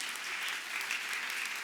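A congregation at a church women's retreat applauds during an apostle's sermon on blessing. The steady, close-packed clapping is even and unbroken throughout.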